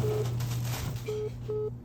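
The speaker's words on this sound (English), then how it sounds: "someone's calling me." A mobile phone ringtone chirps in short repeated electronic beeps, moderately loud against a steady low hum, with no talking.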